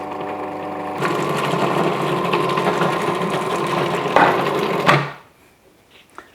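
A food processor whirs steadily for several seconds making mayonnaise, its motor pitch shifting as the mixture thickens, then cuts off abruptly into near silence.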